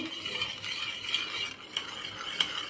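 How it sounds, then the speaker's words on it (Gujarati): A spoon stirs salt into water in a bowl for seasoning fries: a soft swirling scrape under a few bright metallic clinks of spoon against the rim, close and without speech. "મિક્સ કરી દઈશું"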